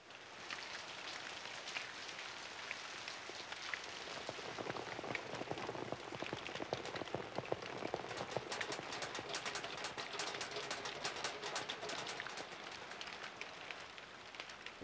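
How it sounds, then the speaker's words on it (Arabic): Steady rain drums on an awning and a trash can, a dense continuous patter of drops with sharper individual taps, heard alone without speech. "صوت المطر وتخبيط المطر على التندة وتخبيطه كمان على صندوق المهملات"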